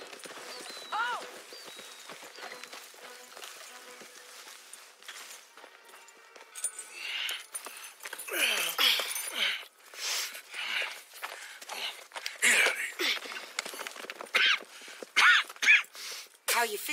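Horses clip-clop along at a walk in Red Dead Redemption 2, steady hoof falls growing louder and busier partway through, with the occasional snort and faint voices in the background.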